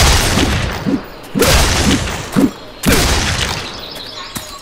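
Machine gun fire in the video game Bloodshed, bursts of loud, close gunfire separated by brief pauses, three main volleys with sharp booming impacts in between.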